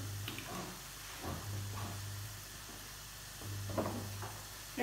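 Pine nuts toasting in a little oil in a small pan give a faint, steady sizzle with soft crackles and occasional stirring clatter, with a low hum running underneath.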